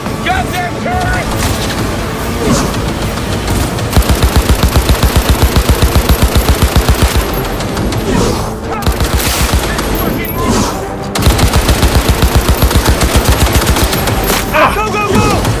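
A turret in Cyberpunk 2077 fires long, loud machine-gun bursts of evenly spaced rapid shots, two clear strings amid heavy combat noise and music, with voices speaking over the action.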